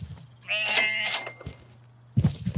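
A sheep in the Estate Agent Simulator video game lets out a drawn-out, wavering bleat near the start, followed by quieter thuds and a short, low burst of sound at the end.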